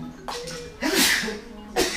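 A single sneeze at close range, a sudden burst of breath around the one-second mark with softer breathy sounds around it.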